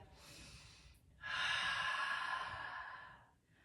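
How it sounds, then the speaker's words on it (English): Deep breath in dolphin pose during a gentle yoga flow: a short inhale, a brief pause, then a long, audible exhale through the mouth lasting about two seconds, close and fairly soft. "Big, full, deep breath."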